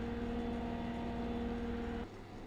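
An engine idle sound effect being tuned for a video game in development hums as a steady low drone with a tonal whine, then cuts down to a quieter rumble near the end.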